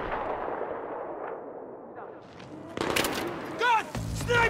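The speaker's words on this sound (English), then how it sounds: "Gun! Sniper!" Sniper and rifle fire in the Battlefield 3 campaign, with distant muffled gunfire and rumble at first, then several sharp, closer bursts of shots near the end.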